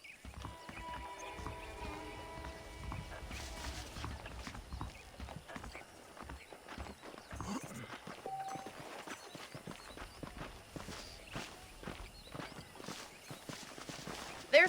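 Horse hooves clip-clop at a walking pace in Red Dead Redemption, a steady close rhythm of hoofbeats with faint creaks and a brief whinny, no talking.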